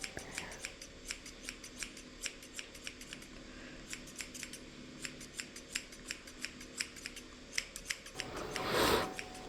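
Thinning shears snip at a Scottie dog's ears and beard in quick, crisp, irregular bursts close up, followed by a short rustle of fur and handling at the end.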